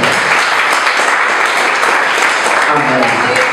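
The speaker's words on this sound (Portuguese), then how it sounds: "Aplauda bem forte ao Senhor" A church congregation applauds loudly at a Sunday service, dense steady clapping filling the room throughout, with voices faintly mixed in.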